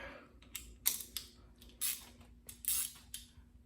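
A ratchet fitted with a 10mm socket tightens a bolt while an SUV window is installed, giving several quick bursts of clicking at close range, fairly quiet, with no talking.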